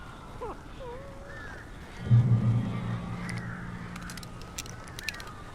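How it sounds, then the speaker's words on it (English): Crows cawing in the video game Alan Wake Remastered, scattered harsh calls and fluttering over a dark ambient background, with a brief low rumble midway. "These birds are weird."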